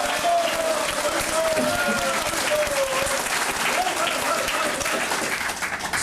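A crowd at a political rally in South Jeolla gives loud, continuous applause, dense and steady throughout, with faint voices mixed in.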